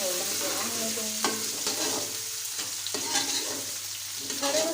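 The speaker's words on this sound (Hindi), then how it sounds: "अब इसमें हम प्याज शामिल करेंगे। प्याज को हम गोल्डन ब्राउन होने देंगे।" Onions fry in oil with roasted whole spices, including black cardamom, for an aloo chicken curry: a close, constant sizzle broken by a few sharper scraping stirs, with no talking.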